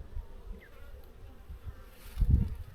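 Honeybees buzz faintly around an open hive frame during a hive split, a low steady hum that swells briefly into a closer, louder burst near the end.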